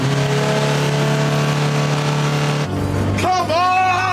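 A budget car with a 2.5-litre Ford engine accelerates hard in a drag race, giving a loud, sustained engine drone that shifts abruptly into a rising rev after a gear change.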